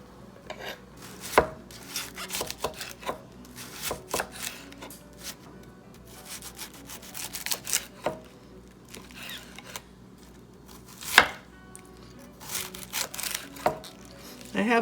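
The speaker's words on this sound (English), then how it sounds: "So I just cut it with my knife." Green cabbage being sliced thin with a knife on a board, irregular crisp cuts and soft rubbing scrapes with a few sharper chops, close and fairly quiet.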